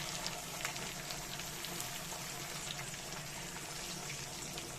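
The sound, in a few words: tomatoes and onions added to a pan of frying food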